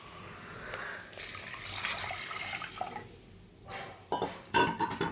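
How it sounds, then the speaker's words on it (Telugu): Water poured into dal in a pressure cooker, a splashing, trickling pour that starts and stops in uneven bursts with light clinks of the vessel, close and fairly faint. "ఇప్పుడు వాటర్ వేసుకోవాలి"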